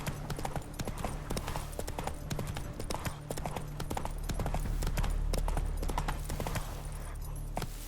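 Horse hooves clip-clop steadily in The Witcher 3 video game, a close, continuous trotting patter of crisp knocks over a low background hum, with faint voices now and then.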